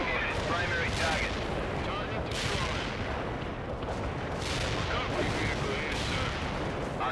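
Artillery barrage raging in the strategy game World in Conflict, a dense continuous roar of overlapping blasts and rumbling impacts with sharper bursts every second or so, loud and sustained throughout.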